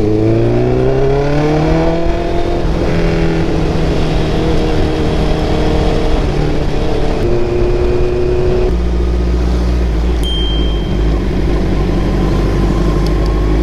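A Honda CBR650R sportsbike engine pulls hard and loud to overtake on a night road, its revs rising through the gears with a shift and the steady roar of wind and engine.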